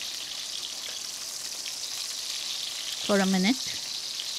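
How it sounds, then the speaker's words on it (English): Garlic and shallots sizzle in a pot for a red grouse stew, a steady hiss of frying throughout, broken near the end by a short spoken phrase over it. "Now it's time to add the garlic and shallots to the pot"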